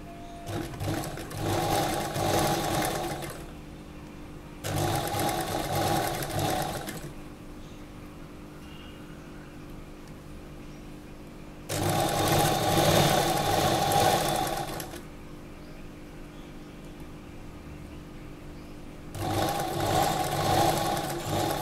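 Sewing machine stitching pink fabric along piping on an Anarkali dress, running in four steady whirring bursts of a few seconds each with quiet pauses between, close and clear.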